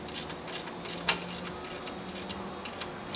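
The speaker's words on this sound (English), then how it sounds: "I'll go in here and tighten down all the nylocks on these carriage bolts right here" A wrench tightens nylock nuts on carriage bolts during a rack height PAK system install, giving soft ratcheting clicks and scraping metal close by with one sharper click, over a low steady hum.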